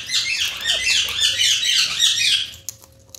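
Pet mynah birds squawk and screech in loud, rapid overlapping bursts for about two and a half seconds, then fall silent apart from a faint lingering tone.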